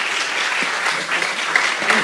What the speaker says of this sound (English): So I would say one more round of applause for Team STG.